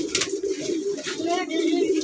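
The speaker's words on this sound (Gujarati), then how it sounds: "જો કબૂતર ને જોવે છે" A pigeon coos in a low, soft, rolling rhythm close by, with faint background voices.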